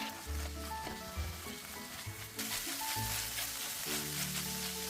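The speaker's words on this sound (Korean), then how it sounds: "중간에 후추도 뿌려준 후 다시 볶아줄게요" Food stir-fried in a pan with soy sauce, tuna sauce, cooking wine and pepper, a continuous close sizzle with scraping stirring sounds, growing louder and brighter partway through.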